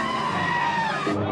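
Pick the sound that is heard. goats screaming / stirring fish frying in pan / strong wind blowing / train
goats screaming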